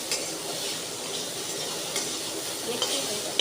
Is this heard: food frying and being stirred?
yes